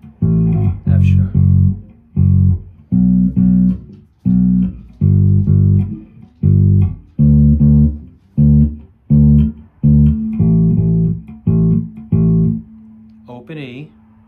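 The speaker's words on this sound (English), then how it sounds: "so you want a nice kind of fat bass tone to it." Bass guitar plays the verse riff of a song with a fat tone, repeating short punchy note groups in a steady rhythm, close and loud, with a brief harmonic at the end.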